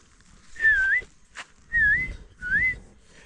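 A person whistles to cows, three short rising-and-falling notes, spaced apart with pauses, with a low rumble beneath and a brief noise between the first two.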